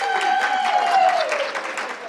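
A cheering section claps and cheers at a public meeting, a dense burst of applause with a voice rising over it, tapering off toward the end.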